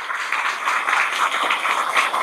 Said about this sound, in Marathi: एकदा जोरात टाळ्या व्हायला पाहिजे त्यांच्याबद्दल।